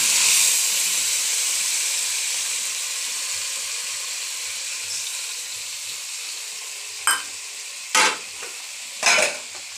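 Onion and garlic paste hits hot oil in a pan with a loud steady sizzle that slowly fades, followed by a few short scraping stirs near the end.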